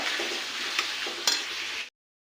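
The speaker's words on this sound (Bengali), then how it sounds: "এখানে আমি ডিমের আলুটাকে ভালো করে কষে নিচ্ছি" Potatoes for egg curry sautéing in a pan, a steady close hiss of frying with a few soft scraping stirs, ending abruptly after about two seconds.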